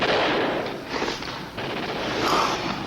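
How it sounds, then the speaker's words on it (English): Wartime battle scene from a combat TV drama: a dense, continuous roar of artillery barrage and small-arms gunfire, bursts swelling and fading at moderate distance. "They're moving in under the barrage."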